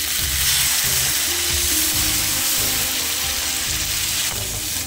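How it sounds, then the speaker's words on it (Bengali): Water hitting a hot frying pan of vegetable stems and jackfruit seeds in a home kitchen, a steady loud hiss and sizzle lasting throughout with some low clattering underneath. "আমি এখন এতে জল দিয়ে দিচ্ছি।"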